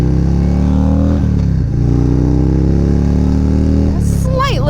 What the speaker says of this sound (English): I kind of just want to hop on the highway and see how the bike feels at highway speeds fully packed